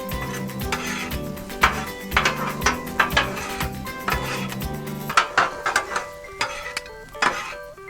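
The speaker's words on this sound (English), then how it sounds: "Keep mixing these vegetables up, letting them cook," Mushroom, zucchini and onion pieces being stirred and scraped on a hot Blackstone griddle, with repeated metallic spatula taps and clanks in an uneven rhythm over a steady background.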